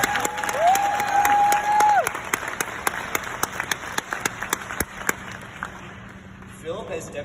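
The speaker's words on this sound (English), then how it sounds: "Let's clap it up for the basketball team" Applause from an audience for a school basketball team after a city championship and state playoff run: a brief, loud tonal sound opens, then sharp scattered claps continue and slowly fade out.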